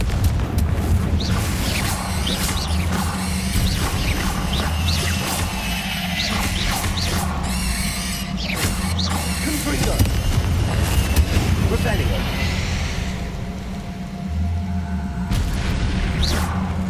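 Repeated booming Confringo spell blasts in Hogwarts Legacy, a dense run of loud bursts and crashes over seventeen seconds with brief lulls, mixed with voices and combat noise.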